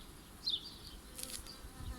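A faint, steady buzz of honey bees at a hive hovers in a quiet outdoor setting, with a few brief louder passes close by.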